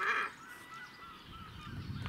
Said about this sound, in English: these are a red-breasted goose and a glossy ibis.